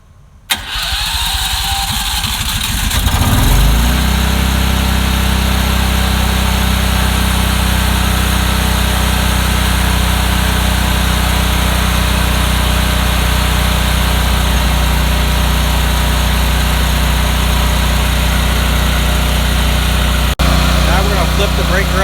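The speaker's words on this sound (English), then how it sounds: "The generator will attempt it 2 to 3 times by itself." A Westinghouse WGEN12000DF dual fuel generator cranks and catches, then settles into a loud, steady running drone that continues without a break.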